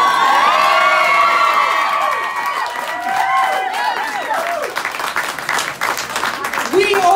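A crowd at an election victory speech cheers, whoops and shouts, with clapping mixed in, loud and close, swelling and easing over several seconds with excited voices throughout.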